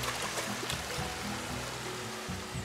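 River water rushing and trickling through a natural rock pool in Futrono, Chile, a steady close broadband wash with small splashes, no voices.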